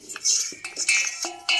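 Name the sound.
stirring spice mix with a ladle or long spoon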